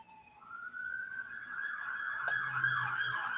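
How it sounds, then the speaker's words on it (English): An emergency vehicle siren wails through a residential neighborhood, rising and sweeping as it passes, moderately distant at first and growing louder. "somebody's flying down my neighborhood with the siren going"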